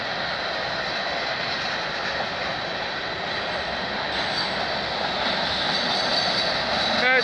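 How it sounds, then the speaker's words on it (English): A CN freight train rolls past at night at a city crossing, a steady loud rumble of railcars and wheels on rails throughout, with faint wheel squeal rising near the end. "So nice to get a night train once in a while."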